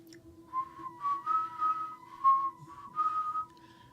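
Whistling drifts in from outside a house in the middle of the night, a wavering tune in several phrases over a steady low hum.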